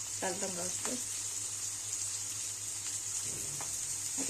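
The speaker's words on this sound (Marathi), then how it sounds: "आता हे टामाटो आणि कांदा एकदम चांगलं भाजून घ्यायचं बघा" Onion and tomato fry with curry leaves in a pan, giving a steady, soft sizzle throughout while someone speaks briefly.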